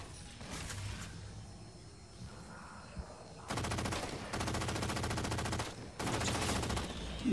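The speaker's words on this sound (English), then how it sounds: "Last mag on the machine gun." Machine gun fire in the Halo 4 video game, sustained automatic bursts in two long stretches after quieter game ambience, no talk.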